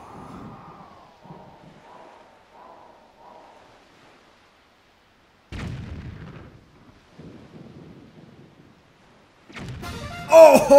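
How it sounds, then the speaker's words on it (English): Cannon shots boom in The Legend of Zelda: The Wind Waker, a few separate blasts spaced apart with quiet gaps between, the last one loudest and closest. "I have to get these next two shots perfectly."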